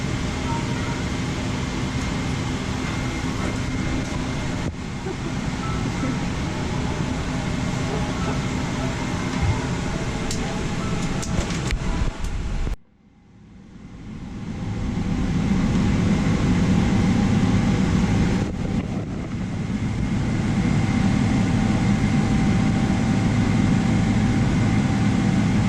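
Airplane cabin noise, a loud, steady broadband rumble and hiss that drops briefly midway, then returns with a stronger low roar, with voices talking over it.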